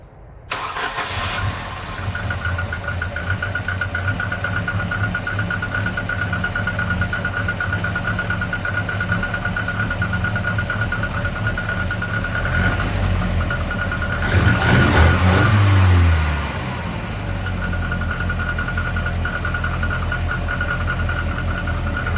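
A Volvo 240 engine runs at idle, a steady close mechanical drone that lasts throughout. There is a brief rougher surge partway through before it settles back to an even idle.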